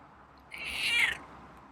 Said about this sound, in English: It's a nice meow.